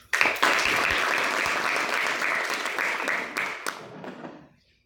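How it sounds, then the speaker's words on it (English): An audience at a youth leadership Toastmasters meeting bursts into a round of applause, dense steady clapping that holds for about four seconds before tapering off quickly into silence. "Can we get a round of applause?"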